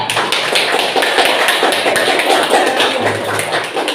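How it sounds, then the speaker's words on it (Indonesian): An audience applauds a student group after its presentation, with a dense, steady patter of hand claps that stays loud throughout and has no speech over it. "beri aplaus untuk kelompok 3 ya"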